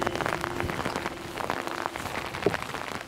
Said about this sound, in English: you can stand out in the rain all day long when you're looking at 6 rams on the side of the mountain over there